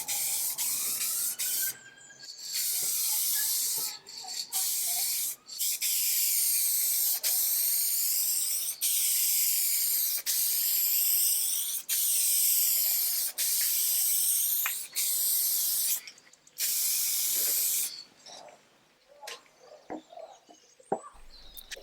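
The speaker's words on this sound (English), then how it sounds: "I'm using lacquer toner on the entire thing, so it all looks nice and even." Walnut lacquer toner sprayed from a spray gun onto a 150-year-old chair being restored, loud close hissing bursts of several seconds each, separated by short pauses, ending in quieter handling noises, with no one speaking.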